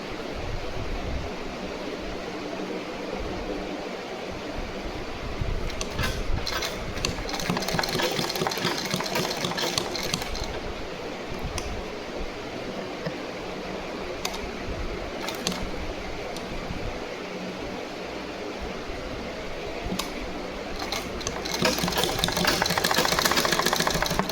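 A sewing machine stitches a bodice onto a skirt, running as a steady, fairly loud mechanical whir with a dense broadband hum and no pauses, picking up slightly toward the end.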